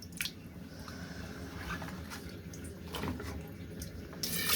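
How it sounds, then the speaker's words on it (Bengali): Vegetables, including sandy new potatoes, being washed by hand in water for a final rinse, with soft wet squishing and light splashing that is faint and continuous, plus a few small drips and one brighter splash near the end. "এই যে এবার লাস্ট ধোয়া দিচ্ছি আম্মু।"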